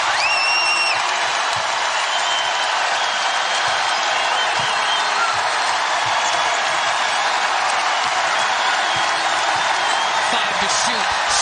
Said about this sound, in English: She has brought this crowd to its feet.